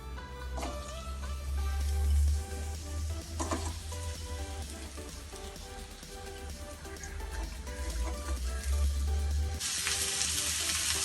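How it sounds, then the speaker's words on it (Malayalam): Chopped onion dropped into hot ghee in a pan for bread anda bhurjee, giving a steady, close sizzle with a louder burst early on and a brighter hiss toward the end over a tonal background. "നെയ്യ് ചൂടായിട്ടുണ്ട്. ഇനി നമുക്ക് അതിലേക്ക് സവാള ഇട്ട് കൊടുക്കാം."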